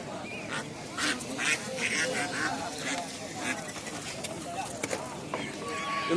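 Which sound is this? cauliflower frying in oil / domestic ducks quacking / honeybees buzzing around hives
domestic ducks quacking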